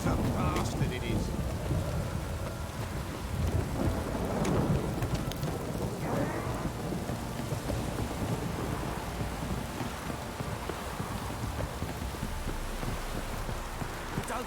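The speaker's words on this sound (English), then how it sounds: "This downpour's a bastard" Steady heavy rain with rolling thunder in The Witcher 3: Wild Hunt, a loud continuous downpour with deep rumbles throughout, no speech.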